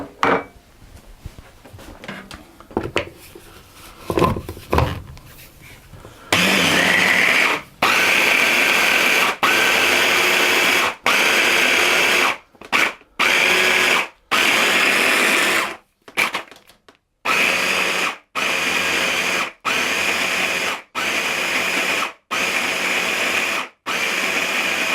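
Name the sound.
food processor pulsing pine nut and sesame cookie dough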